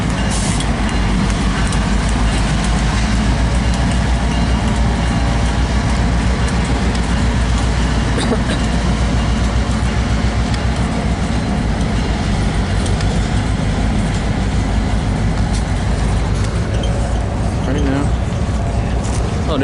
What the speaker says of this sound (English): An open boxcar on this train. As he heads westbound down to the Westport yard